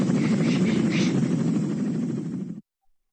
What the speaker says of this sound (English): Chopper heading north from Cape Town waterfront.